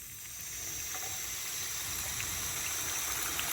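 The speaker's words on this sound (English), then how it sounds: "small amounts so the water starts to bubble up." Water bubbling and gushing up steadily from an Orbit anti-siphon sprinkler valve being flushed after a diaphragm replacement, a continuous hiss-like rush of water holding at a constant level with no talk.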